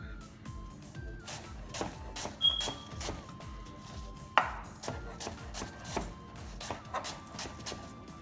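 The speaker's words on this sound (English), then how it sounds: "So you gotta chop it fine while we're cooking these apples." Rapid, steady knife chopping of apple on a board, fine quick strokes repeating continuously with a faint background hum.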